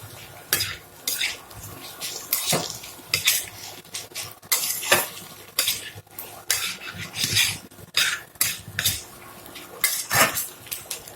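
A spoon scrapes and clanks against a pot while vegetarian mocha bata, a banana-flower paste, is stirred, giving an irregular run of close metallic knocks and rasps with brief pauses and no talk.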